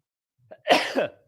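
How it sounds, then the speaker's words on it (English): A single sharp sneeze, loud and close, with a brief intake of breath just before it. "I just sneezed during a podcast."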